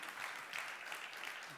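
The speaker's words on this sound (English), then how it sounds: "give yourselves a round of applause for being here" Applause from a small group gathered for a Friday night Bible study, a steady, fairly faint patter of clapping with no talk over it.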